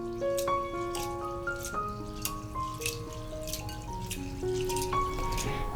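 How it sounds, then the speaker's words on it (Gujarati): Basmati rice is rinsed in water, soft steady drips and trickling with faint splashes, close and quiet, no talk. "હવે સૌથી પહેલાં આ રાઈસને આપણે 3 થી 4 વખત સરસ રીતે પાણીથી ધોઈ લેશું"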